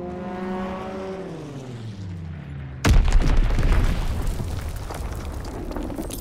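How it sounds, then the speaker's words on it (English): A bomb explosion in Call of Duty WWII, preceded by a descending whistling drone of an incoming bomb, then a sudden loud, close boom that rolls into a long rumbling, crackling tail. "Enemy bomb incoming."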